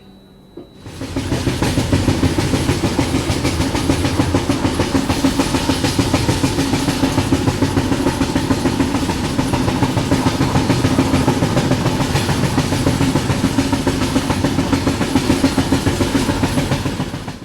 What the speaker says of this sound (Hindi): એટલામાં અહીંયા તેજસ એક્સપ્રેસ સાથે અમારી ક્રોસિંગ થઈ રહી છે